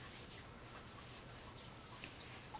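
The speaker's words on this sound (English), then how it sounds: "Just a simple rubbing in of the vinyl restorer into all the crevices." Vinyl restorer is rubbed by hand into the crevices of a Cabbage Patch Kid doll, giving a soft, steady, continuous rubbing close by with no talk.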